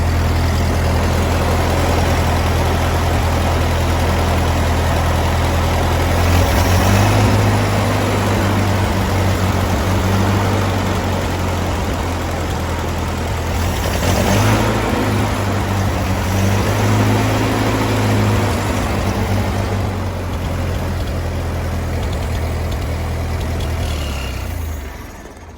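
A 1947 Ford 2N tractor engine with a newly installed governor runs steadily at idle, a loud, close, low rhythmic chug that briefly picks up and settles again before cutting off at the end.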